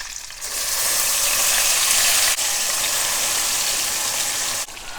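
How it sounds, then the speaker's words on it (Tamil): Onion and ginger-garlic paste sauté in hot oil for street-style channa masala, a steady, loud sizzle close up with a couple of brief stirring clicks. "நல்லா பச்சை வாசனை போகிற அளவுக்கு வதக்கிடணும்."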